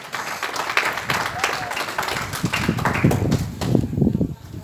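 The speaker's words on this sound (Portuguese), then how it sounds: "E quem crê diz amém e aplauda Jesus de Nazaré" A church congregation breaks into applause during a worship service, a dense wash of clapping that swells and carries on with voices mixed in underneath.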